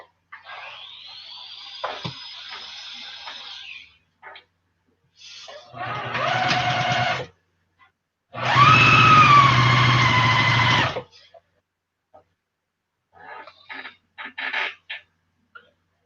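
Sewing machine stitching fabric for an advent calendar, in several separate bursts of steady mechanical whirring with pauses of quiet between them.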